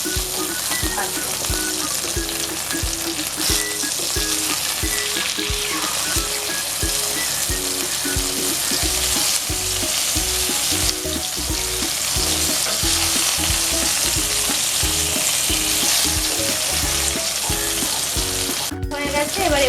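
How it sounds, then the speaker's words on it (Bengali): Bhetki fish pieces fry on their second side in hot oil for a yogurt fish dish, giving a loud, continuous crackling sizzle with regular scraping pulses from stirring or turning, close up throughout. "এক পিঠ ভাজা হয়ে গেছে, এবার আমি আর একটা পিঠ ভাজবো।"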